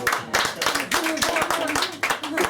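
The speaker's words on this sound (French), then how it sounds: "Je ne sais pas comment je dois prendre ces applaudissements." A comedy show audience applauds, with steady, close crowd clapping that fills the short stretch. Some voices mix in with the clapping.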